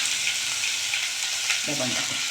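Pumpkin, ash gourd and other vegetables sautéing in oil over high heat for Udupi sambar, a soft continuous frying hiss at close range, with a brief low murmur of voice near the end.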